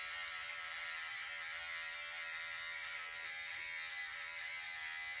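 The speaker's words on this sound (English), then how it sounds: "with the cordless clippers, I'm cleaning up my neck area." Cordless hair clippers buzz steadily and close up while trimming neck hair during a home haircut, a continuous high-pitched motor whine with no breaks and no talking.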